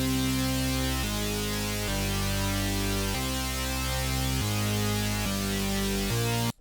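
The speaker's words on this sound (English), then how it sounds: "starting off, I have the synth noise" A dense synth noise pad carries a simple melody over a trap-style beat, with sustained tones shifting about every second beneath steady low bass, loud and continuous throughout, no voices.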